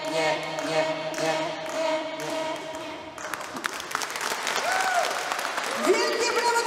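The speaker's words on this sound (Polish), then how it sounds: "Wielkie brawa dla tych młodych artystów, Apolonia!" An audience at a concert applauds after a song, with clapping that swells from the middle onward under a speaking voice and music that fades out.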